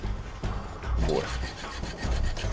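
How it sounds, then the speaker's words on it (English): A saw rasps back and forth through a thick metal lock in a scene from the 2004 horror film Saw, with steady repeated strokes, fairly loud and close, and no voices over it. "He's cutting the lock."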